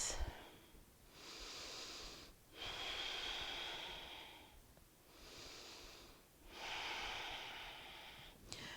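Slow, deep yoga breaths taken in two rounds, each long airy inhale or exhale swelling and fading, close to the mic and calm, with no talking.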